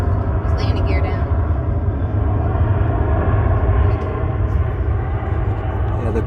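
Aircraft on landing approach with landing gear and flaps down passes overhead during Fleet Week, a steady loud engine rumble and roar filling the whole stretch, with faint voices briefly audible early on.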